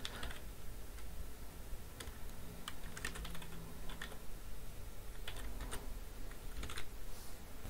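Rapid, steady typing of code on a computer keyboard, close and continuous, with clusters of sharper key clicks and no voice over it.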